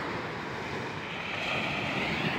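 Rough sea breaking along a shoreline by a fishing village, a steady wash of surf and wind noise rushing on with no pauses.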